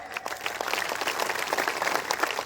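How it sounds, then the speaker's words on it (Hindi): Crowd applause at a public gathering about Khetri's future, steady dense clapping filling the whole stretch at moderate loudness with no talk over it. "एक जोरदार तालियां बजाएं।"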